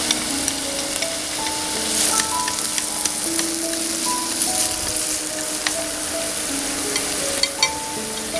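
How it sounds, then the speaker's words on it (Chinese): Onion, garlic, potato cubes and carrot cubes stir-fry in a hot pan, giving a steady loud sizzle with repeated scrapes of the spatula throughout. "洋葱炒出香味以后，加蒜进来。 土豆丁、胡萝卜丁，"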